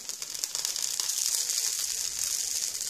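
A mukia leaf dosa (Mukia maderaspatana) cooking on a hot pan, giving a steady, bright sizzling hiss that stays even and unbroken at close range, with no voices.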